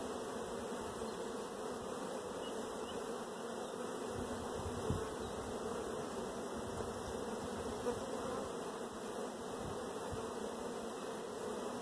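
A dense swarm of honey bees hums steadily and close while brood frames are lifted from a hive, a continuous buzzing drone with a few soft knocks of wood, no one speaking.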